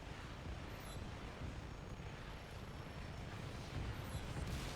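Explosions and smashing destruction from a helicopter rampage in the video game Just Cause 3: a dense, continuous roaring rumble that stays loud throughout, with no talking.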